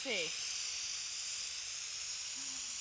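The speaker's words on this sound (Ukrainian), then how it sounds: "Це відпарювання одягу одним рухом." A Shark portable garment steamer gives off a steady, broad hiss of steam that runs unbroken throughout, soft and close, with a brief tonal squeak at the start.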